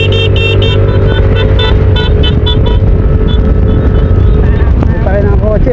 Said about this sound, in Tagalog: Ito rin ang kotse oh, ayaw magbigay.